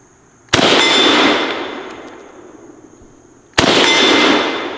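Two loud, close SKS rifle shots crack about three seconds apart, each ringing off with a long decaying echo.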